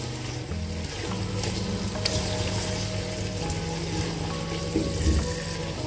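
Green chillies, split lengthwise, sautéing with yogurt in a pan for chicken yakhni pulao, giving a steady low sizzle and bubbling with a few light clinks, continuous and close, no talking.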